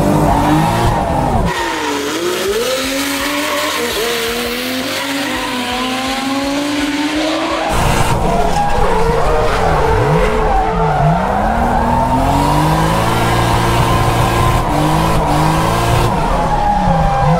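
A drift car slides hard through repeated runs, its engine revving and falling in sweeping arcs while the tires squeal loudly and continuously, with no talk over it.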